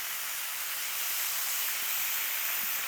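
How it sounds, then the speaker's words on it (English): Steady, dense sizzling hiss of bacon frying on a hot griddle, continuous and fairly loud with no voices. "Oh yeah, hear that sizzling on there?"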